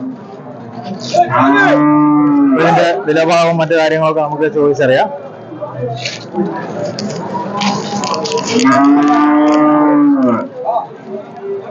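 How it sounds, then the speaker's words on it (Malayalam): A dairy cow at the Mele Palayam cattle market gives several loud, drawn-out moos close by, two long calls standing out, while someone talks over and between them. "കണ്ടുകൊണ്ടിരിക്കുന്ന മറ്റൊരു കറവ പശുവാണ്"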